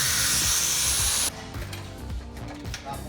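A power drill bores a hole in a 2018 Jeep JLU during an upgrade build, loud and steady for about a second before cutting out, leaving quieter mechanical clatter behind.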